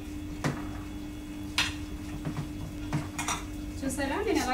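Chicken pieces being mixed with biryani marinade in a metal pot for Hyderabad dum biryani, giving scattered clinks and scrapes of a spoon against the pot, close and moderately loud, with a steady hum underneath.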